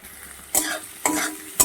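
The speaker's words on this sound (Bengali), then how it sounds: "আমি এখানে পেঁয়াজকে ভালো করে আমি ভেজে নেব" Finely chopped onions fry in a pan, a close, loud crackling sizzle that surges in three quick bursts as they are stirred, with no talking.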